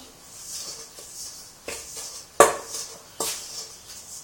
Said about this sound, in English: נערבב את כל החומרים